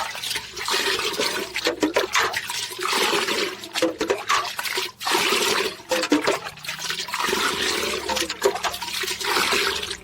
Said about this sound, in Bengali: এর মধ্যে কিছুটা জল অ্যাড করতে হবে। ভালো করে মিশিয়ে নেবেন।